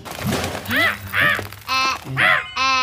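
A cartoon crow gives a run of harsh, drawn-out caws, five or so in quick succession, loud and close, sounding voiced, as if a person is imitating the bird.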